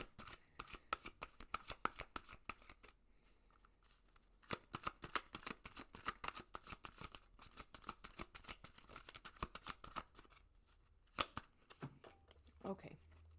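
Tarot cards are shuffled in rapid crisp bursts of riffling and flicking, close and fairly quiet, with short pauses between runs and a soft thump at the end.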